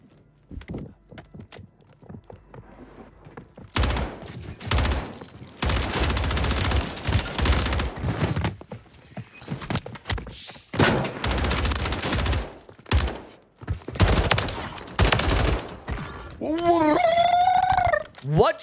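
Gunfire in the shooter game Warzone 3, with bursts of rapid automatic fire in long loud stretches alternating with short quiet gaps, plus scattered single shots, game sound effects and a voice talking in between.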